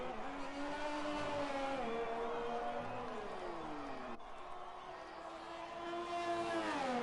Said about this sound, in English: Q-Tip coming around the final corner now to secure second place for the Renault team.